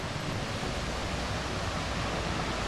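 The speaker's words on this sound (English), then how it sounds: "I think that's a 2-layer waterfall." A two-tiered waterfall in Cherokee National Forest roars in a constant, dense broadband rush, loud and unbroken, with no voices over it.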